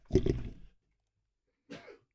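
A single sharp sneeze, close and fairly loud, during a sports talk show recording, followed by silence and a brief murmur of speech.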